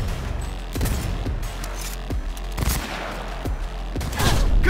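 Rapid gunfire from a firefight in the video game Cyberpunk 2077: several close, sharp bursts of shots in an uneven rhythm over a steady loud background rumble, with no talking.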